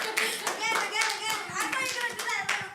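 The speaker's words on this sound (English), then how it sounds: "A clap, please. Clap. Again." Workshop audience clapping on cue, a few short bursts of rhythmic hand claps close by, interleaved with people talking and a child-like voice.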